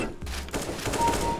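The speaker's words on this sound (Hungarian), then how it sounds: "Még messziről is lőttem" Gunfire in the video game CS:GO: a brief, dense burst of rapid shots, steady and fairly loud, with no voices.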